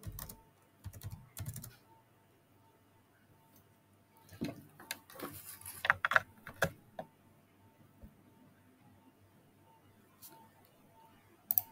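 Keys clatter on a computer keyboard in quiet, intermittent bursts of rapid keystrokes separated by pauses, with a few louder taps standing out against a faint background.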